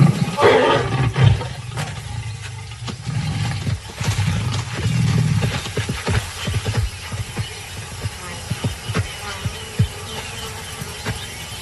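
A lioness growls in irritation, low rumbling bursts rising and falling close by over the first few seconds, then trailing into quieter rough snorts and breaths.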